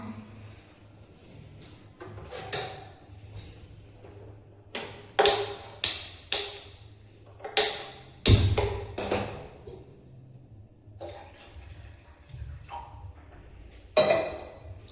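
Dishes, pots and pans clink and clatter in a home kitchen while tea is made, with sharp irregular knocks and taps, some louder and closer, and stretches of quieter handling between them.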